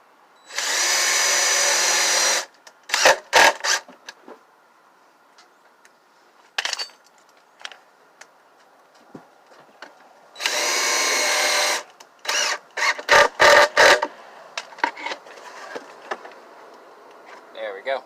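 Cordless power drill driving two screws into a wooden radish box for an RV garden: two long, loud whirring bursts, each followed by sharp clattering knocks and handling sounds, with quiet gaps between.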